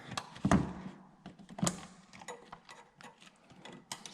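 Parts are being tightened while a BMC carbon OTA air box is fitted to an Abarth. Close, sharp ratcheting clicks and metallic clunks come in uneven bursts, louder near the start and then as lighter rapid ticks, with no voices.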